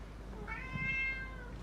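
A single clear, rising-and-falling meow from a nearby house cat, lasting about a second, heard alone over a faint steady hum.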